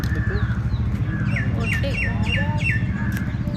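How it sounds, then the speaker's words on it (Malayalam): Several birds chirp and tweet in quick repeated calls over a steady low background hum, fairly clear and close. "കിളികളുടെ ശബ്ദവും"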